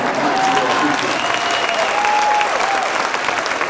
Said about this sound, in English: Another round of applause for Brooklyn's own, the New York City Public Advocate Jamani Williams.